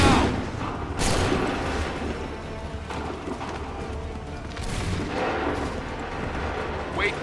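Cannon blasts and musket fire boom through an Assassin's Creed 3 battle, several heavy reports spaced a few seconds apart over a rumbling backdrop, with voices shouting in the game.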